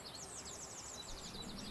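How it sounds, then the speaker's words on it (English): Loud, steady bird chirping ambience from the video game Open Roads, a dense repeating twitter over constant hiss with no pauses. "It's just like really loud bird noise now."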